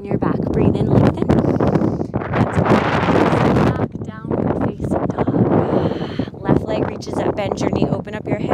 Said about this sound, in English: It's a really windy day here.